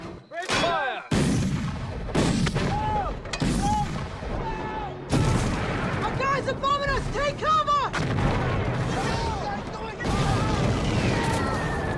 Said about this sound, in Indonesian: markas pusat langsung memberikan bantuan berupa serangan artileri